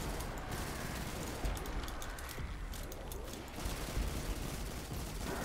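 Gunfire in the Halo Reach campaign, with dense bursts of automatic fire and rapid shots rattling steadily at moderate loudness, without pause across the stretch.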